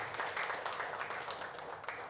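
Applause from an audience honouring a guest at a tourism association's eighth anniversary celebration, a steady dense wash of many hands clapping throughout, fairly distant and even.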